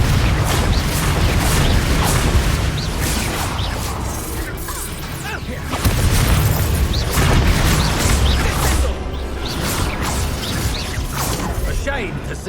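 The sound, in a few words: Confringo blast spell explosion from the video game Hogwarts Legacy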